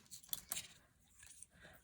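A small bunch of everyday bag keys jangles in a few quick, faint metallic shakes close by, with quiet pauses between them.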